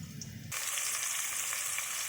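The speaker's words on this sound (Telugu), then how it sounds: "ఆయిల్ వేడైన తర్వాత ఆనియన్స్, పచ్చిమిర్చి వేసుకోవాలి. తర్వాత కరివేపాకు వేసి ఫ్రై చేసుకోవాలి." Onions, green chillies and curry leaves hit hot oil, bursting into a loud, steady sizzle that fills the pan after a brief quieter moment of stirring.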